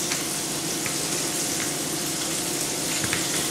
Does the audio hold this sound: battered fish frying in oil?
yes